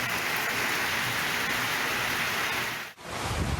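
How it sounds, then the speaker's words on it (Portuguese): Steady rain falls in Sumaré, a dense close hiss of drops on surfaces that continues unbroken apart from a momentary dip near the end. "A chuva que está caindo aqui em Sumaré, ó."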